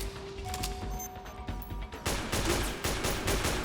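Rapid gunfire in Metal Gear Solid 4 during an attempted headshot, with dense bursts of shots over steady game ambience and a louder, sharper barrage in the second half.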